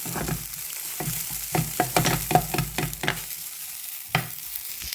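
Okra stir-fry with turmeric sizzles in a pan as a spatula stirs it in quick, repeated scraping strokes, loud and close, with a steady frying hiss underneath.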